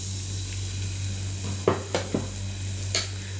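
About ten cloves of crushed garlic and green chilies sautéing for an easy cooker chicken curry: a soft, continuous sizzle broken by a few short spatula clinks against the pan.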